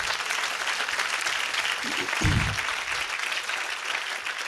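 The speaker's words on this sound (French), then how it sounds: "je vous invite à vous applaudir aujourd'hui d'être ici en si grand nombre" A large conference audience at a small-business congress applauds steadily, a dense wash of many hands clapping at moderate distance, with a short low thump partway through.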